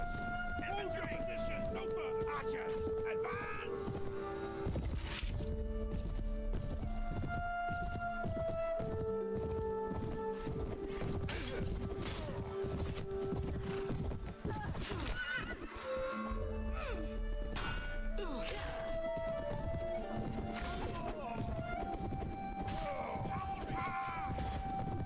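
Horse hooves gallop in the video game Mount & Blade: Warband, with clip-clop strikes and repeated whinnies over steady tonal game music throughout.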